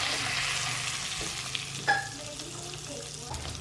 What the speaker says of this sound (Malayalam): ജസ്റ്റ് ഒന്ന് ഷാലോ ഫ്രൈ ആയാൽ മാത്രം മതി.